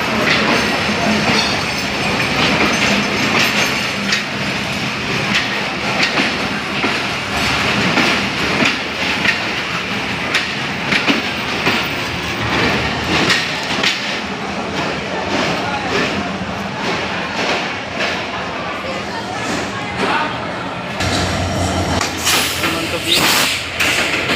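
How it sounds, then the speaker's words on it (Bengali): The Barendra Express pulls away from a platform at Natore railway station with continuous rumbling and clickety-clack wheel rhythm, close and loud, while a person speaks over the noise. "এইমাত্র আমরা দেখলাম বরেন্দ্র ট্রেন আসলো এসে প্ল্যাটফর্ম প্যাক করে চলে যাচ্ছে"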